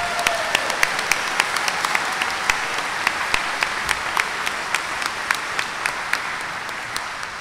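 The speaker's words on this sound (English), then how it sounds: "let's give a round of applause for all the master's graduates" Applause fills a hall at a Rowan University College of Engineering degree ceremony for the master's graduates, a sustained wash of many hands with a few sharp individual claps standing out steadily throughout.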